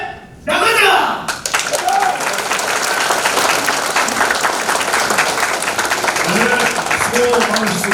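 Sustained audience applause at a Korean political rally, the 2023 National Hope Committee current-affairs meeting, breaking out sharply after a brief quieter start and continuing as a dense, loud, steady clapping crowd.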